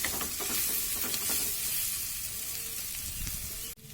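Chicken frying in a pan with little oil over low gas, a close, steady sizzle broken by scraping stirs, ending in a brief clatter.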